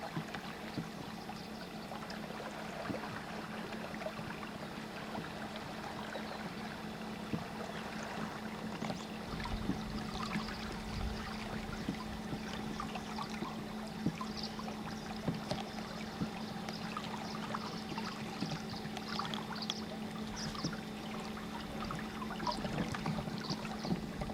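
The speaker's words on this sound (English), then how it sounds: "That rippling sound is really pleasant at night when the water's high like this" Rippling of a high-running stream at night, a steady broadband wash of flowing water with small splashy bursts, continuous and moderately distant, no voices.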